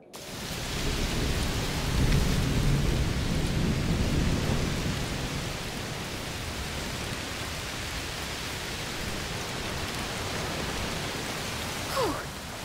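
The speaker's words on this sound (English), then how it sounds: "Must be a heat storm." Steady heavy rain with deep rolling thunder in the video game A Plague Tale: Requiem, swelling early then settling into a constant downpour, a brief higher whoosh near the end.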